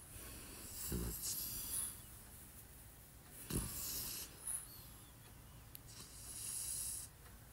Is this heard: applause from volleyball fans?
no